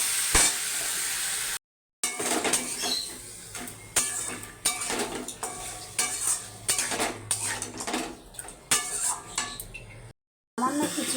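Fish head, potato and pointed gourd go into a pan of fried spices for a Bengali curry, a loud run of scraping, clattering utensil strokes over a sizzle, with two brief silent gaps.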